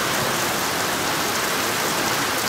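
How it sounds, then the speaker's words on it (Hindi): Steady morning rain pours down without a break, a dense, even hiss close by with no voices, cutting off abruptly at the very end. "बारिश हो रही है"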